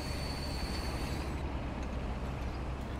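A train runs in Transport Fever on an ECML-style map, giving a continuous, even rumble of rolling wagons with a faint high whine that drops away partway through.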